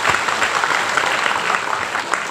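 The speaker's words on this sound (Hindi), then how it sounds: "हमारा बुरुई बदौल के लिए भी आप लोग थोड़ा सा ताली मार दीजिए" A crowd applauding at a political election rally, loud, close, sustained clapping from many hands that stays dense and even throughout.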